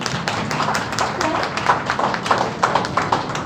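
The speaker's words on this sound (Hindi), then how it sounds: "सर प्लीज़ सर के लिए ज़ोर से आपके पास जाओ ताज़ा तालियाँ।" Audience clapping for Dr. Rizwan, a senior faculty member, at an aptitude guidance session: a steady mass of hand claps with scattered louder individual claps, close and continuous, with some voices underneath.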